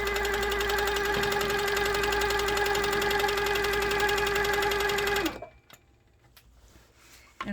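A sit-down midarm quilting machine stitches at a steady, even speed during ruler cross-hatching, giving a loud continuous mechanical whir with a rapid rhythmic chatter that cuts off abruptly near the end, leaving quiet handling noises.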